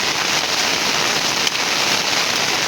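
Steady, even rain pours down in the village of Cibojong, a dense close hiss with no voices.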